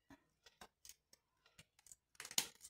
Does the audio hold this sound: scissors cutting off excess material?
yes